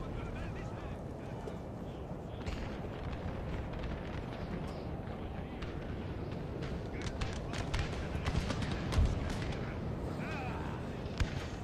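Cannon fire in a Napoleon Total War battle, a dense continuous rumble of distant artillery with scattered louder booms over battlefield noise, no talk heard.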